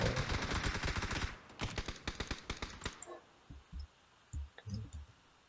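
Rapid volleys of gunfire from the PUBG battle royale video game crackle loudly for about three seconds, then give way to sparser, softer shots and thuds in the distance.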